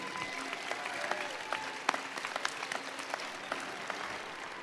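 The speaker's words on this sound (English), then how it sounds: "please show your thanks and applaud these dedicated individuals who have guided you along your journey" Graduation audience at a fall commencement ceremony applauding the faculty, a steady wash of many hands clapping at moderate distance with scattered sharper claps standing out, sustained without pause.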